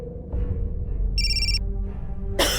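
A telephone rings indoors during a domestic drama scene: a short, bright electronic ring tone bursts in mid-clip, with a dramatic music bed and ambient hum throughout.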